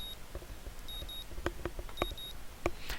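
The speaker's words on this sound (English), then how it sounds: "My morning alarm goes off as I flail about uselessly for a while" Morning alarm clock in the visual novel game Katawa Shoujo: faint, repeated short electronic beeps in a broken pattern, with scattered soft clicks and taps mixed in.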